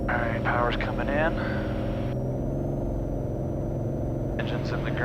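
Small aircraft engine powering up, a steady low rumble and drone building under the cockpit, with a person speaking over it at the start and again near the end.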